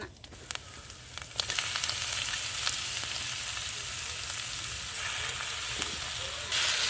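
Marinated tilapia fish going into hot oil with onion and ginger-garlic paste, heard as a quiet start with a few clicks that swells into a loud, steady sizzle with scattered pops.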